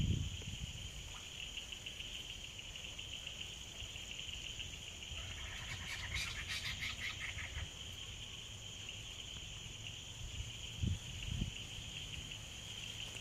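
Faint, continuous trilling of crickets at dusk in an open outdoor setting, a thin steady drone with a short louder flutter midway and a couple of soft low knocks, no speech.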